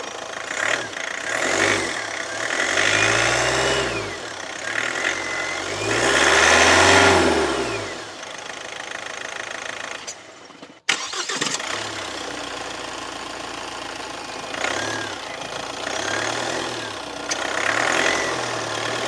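Mahindra 3XO MX2 diesel SUV engine idling with a steady diesel clatter, briefly cut off, then cranked and restarted before settling back into a smooth idle, heard close with no talking.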